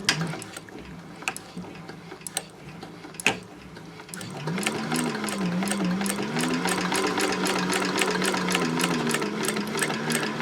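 A sewing machine stitches a seam at a long 5.0 stitch length, starting after a few scattered clicks and handling noises, then running in a fast, steady rattle of rapid needle strokes close by.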